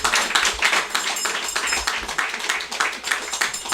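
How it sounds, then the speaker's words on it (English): An audience at a house handing-over ceremony gives a round of applause, a dense patter of clapping that swells and fades in waves over several seconds. "Give Contact a special round of applause."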